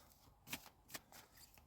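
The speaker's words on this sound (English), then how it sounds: "As we shuffle these cards up and down and all around" Tarot cards are shuffled by hand, producing soft, close papery riffles and slides with a couple of brief louder flicks, quiet and without speech.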